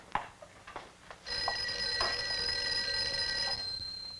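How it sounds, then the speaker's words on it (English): A telephone bell rings steadily in an office setting, a bright continuous ring lasting over two seconds after a few soft knocks and movements, fairly close and with no talk over it. "I think your phone is ringing."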